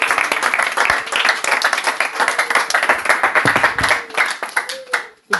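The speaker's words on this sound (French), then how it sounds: "Applaudissons pour notre Seigneur" A church congregation claps and applauds in praise of the Lord during a prayer service. The clapping is loud, close and irregular, with many hands striking under shouted voices before it thins out near the end.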